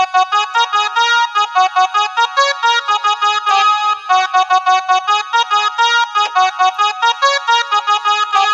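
Casio electronic keyboard playing a Chhattisgarhi wedding song melody, bright steady rhythmic notes with chord accompaniment, loud and close throughout, no talking.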